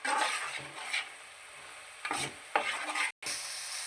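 Fish-curry masala frying in a pan: a close hiss with several scraping stirs, broken by a brief silent gap near the end.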